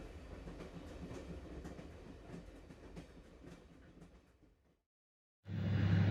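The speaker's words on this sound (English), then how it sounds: "the international passenger train of the Addis Ababa-Djibouti Railway arrives at Lebu station, ready for departure." International passenger train on the Addis Ababa-Djibouti Railway arriving at Lebu station, a steady rumble with clattering wheels that fades to silence, then a loud broadband burst cuts in at the end.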